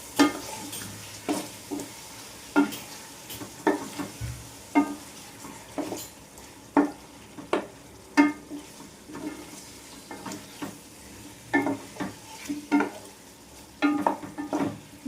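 A spoon stirs chicken biryani masala with chilli powder and coriander powder in a pan, giving repeated scraping strokes about every second under a soft steady sizzle, close and alone without talk.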